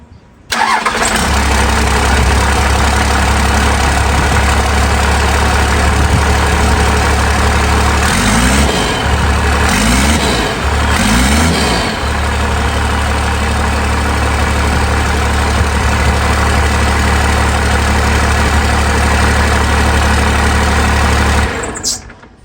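A 12v Cummins diesel engine cranks with a few rhythmic starter whirs mid-clip, otherwise running at a loud, steady low-pitched idle rumble from start to finish.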